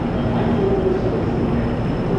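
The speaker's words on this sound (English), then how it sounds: "I just want to show you guys this crazy train over here" Train at a station in Fukuoka, Japan, a loud continuous low rumble and hum of a train running close by, steady throughout with no voices.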